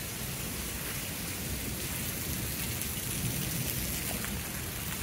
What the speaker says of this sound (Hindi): ऐसे ह्यूमिड वेदर है लेकिन बारिश हो रही है